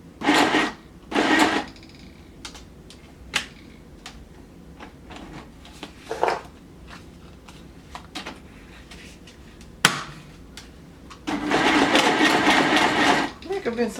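WRMK Stitch Happy sewing machine running a zigzag stitch in short whirring bursts, with a longer steady run near the end and small clicks and handling noises between.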